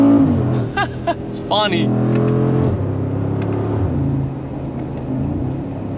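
A 2024 Mercedes G63 AMG pulls hard at full throttle, its engine rumbling loud and close under continuous cabin chatter, with a rising whine briefly standing out early before the drone settles.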